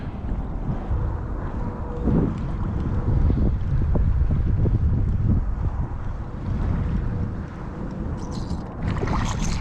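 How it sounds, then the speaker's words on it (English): Strong 13 to 18 mph wind buffets a kayak on cold open water, a steady loud low roar of gusts rushing across the microphone with soft water lapping beneath, swelling and easing throughout with no talking. "We got 13 to like 18 mile-an-hour winds today."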